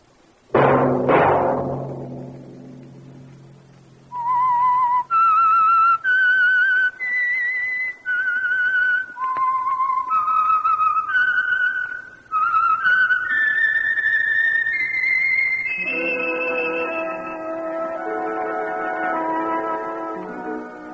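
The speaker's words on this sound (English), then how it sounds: "Let that whistle be your signal" A clear whistled melody of distinct sustained notes rising and falling, preceded by a brief resonant tone and ending on a long held note with soft accompaniment.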